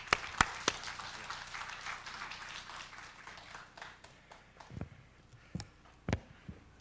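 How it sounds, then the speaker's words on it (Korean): Audience applause welcoming a speaker to the stage at a Busan world mission conference, with scattered claps over a soft crowd wash, a few sharp louder claps toward the end. "나오실 때 박수로 뜨겁게 환영해 주시기 바랍니다."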